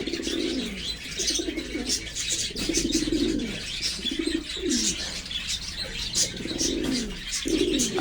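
Lahori pigeons at a pigeon farm cooing in repeated low rolling phrases, close and clear, with occasional chirps and a brief flutter of wings in the background.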